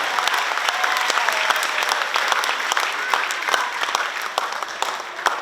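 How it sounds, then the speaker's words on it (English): A graduation ceremony crowd for the Pohnpei PACMED Pioneers graduates breaks into dense, sustained applause, many hands clapping loudly and evenly for several seconds without a pause. "Let's give them another quick round of applause."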